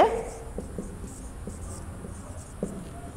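Pen writing on paper while working a math set problem: soft, close scratching strokes in short bursts, faint and intermittent, with a quiet room behind and no clear talk.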